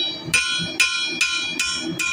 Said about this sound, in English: hitting with the side of my hammer